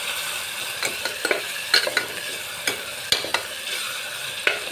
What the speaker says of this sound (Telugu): ఇప్పుడు కలిపేస్తున్నామండి. మంచిగా ఫ్రై అవ్వనివ్వాలి.